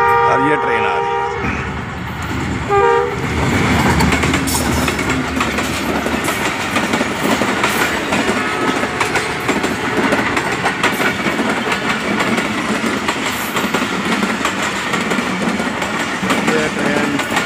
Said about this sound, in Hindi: कराची से लाहौर जाने वाली ट्रेन इस वक्त रेलवे फाटक मांगा रोड रेवेंड से गुजर रही है।